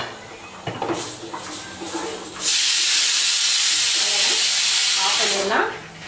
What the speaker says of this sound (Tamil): குக்கர் விசில் வரட்டும்